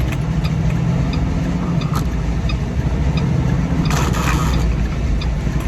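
A truck with a faulty leveler valve being driven on the road, its engine running as a steady low rumble with road noise throughout and a brief hiss of air near the end.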